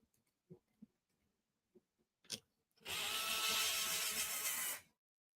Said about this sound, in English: I'm just putting all the screws back because it's a great way not to lose them.